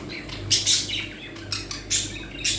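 A pair of budgerigars in a cage chirp in short, bright bursts, several quick tweets close by over a low steady background hum.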